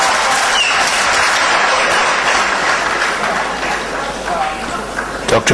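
Sustained applause from a seated audience at a question-and-answer session on Jesus' nature, a dense wash of clapping holding steady for several seconds before thinning slightly near the end.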